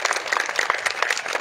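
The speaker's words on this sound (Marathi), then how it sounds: "आणि आता एकदा मनापासून टाळ्या वाजवा तुमच्या आईबापांसाठी कृपया करून जोरात." A school prize event for sea-swimming competition winners, where an audience breaks into loud, dense clapping for the parents; the applause is steady and continuous throughout.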